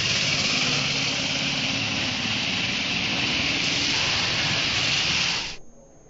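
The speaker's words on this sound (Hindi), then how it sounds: "शाम होते होते आसमान पर बादल घिर आए और उसके बाद झमाझम बारिश का सिलसिला शुरू हो गया" Heavy rain pours down as a dense, steady hiss that holds level for several seconds, then cuts off abruptly near the end.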